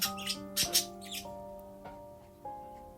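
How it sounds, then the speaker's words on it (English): A pet bird chirps in short, bright bursts with sustained whistled tones in between, close by and fairly loud in a quiet indoor room. "Is my bird mocking me? Do you hear her doing that?"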